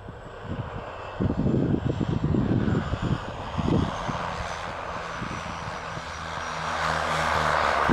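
A 78-year-old World War II Basler BT-67 propeller aircraft drones on a flight from Union Glacier to the South Pole, its engine hum steady with rushing wind and low rumbling throughout.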